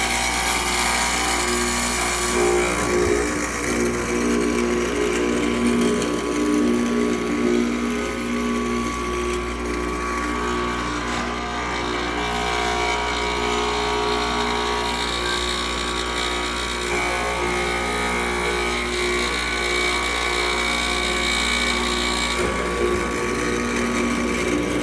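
A drill bores holes into a bandsaw part, running as a steady, loud machine whine with a pump-like hum for over twenty seconds, its pitch shifting slightly as it cuts, with no talking.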